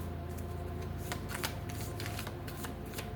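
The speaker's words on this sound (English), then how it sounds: "Let's shuffle this." Tarot cards are shuffled by hand in steady, close riffles and soft flicks over a constant low background hum, continuous across a few seconds with no voice.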